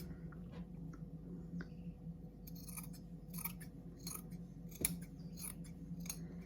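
Scissors snipping through quilting fabric while cutting pieces for an improv nine-patch quilt block, a run of crisp, closely spaced cuts over a quiet room with one sharper snip midway.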